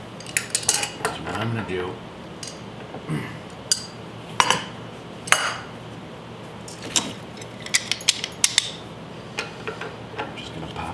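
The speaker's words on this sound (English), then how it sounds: "you're gonna get a wrench, you're gonna loosen this bolt right here" A wrench clinks and taps against metal while loosening a bolt on a Tritech T5 pump, scattered sharp metallic ticks over quiet room noise, with someone briefly talking at the start.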